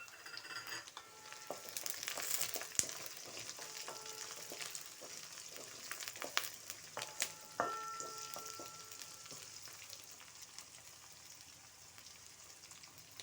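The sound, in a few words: onions, curry leaves and green chillies frying in a pan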